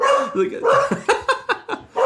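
A dog barks close by in a quick run of sharp, loud barks and yips, several in rapid succession.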